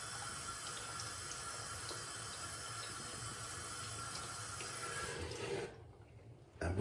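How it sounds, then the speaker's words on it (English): Tap water runs steadily into a bathroom sink while someone rinses off after shaving with a double edge safety razor. The close, even hiss carries on for several seconds and then stops abruptly as the tap shuts off. "so I rinse it off pretty immediately"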